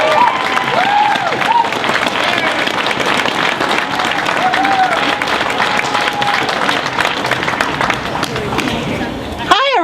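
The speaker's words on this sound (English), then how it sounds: "Ladies and gentlemen, a big round of applause for DianeBitter." A seated audience gives a speaker a loud, sustained round of clapping with some cheering, steady and dense until it cuts off abruptly, with voices over it.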